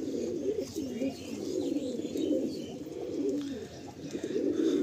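A group of pigeons coos continuously nearby, low rolling calls overlapping for several seconds with a few faint chirps and no voices.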